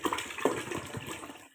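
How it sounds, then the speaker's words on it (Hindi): About two liters of water gush into a cooking pot holding a kilogram of goat trotters for mutton paya: a close, steady pouring splash lasting under two seconds, heard alone. "तकरीबन 2 लीटर पानी शामिल कर दिया है।"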